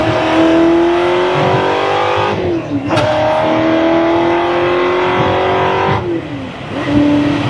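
Ford GT40 engine running loud and close, a throaty roar climbing through the revs, with brief dips at gear changes before pulling hard again.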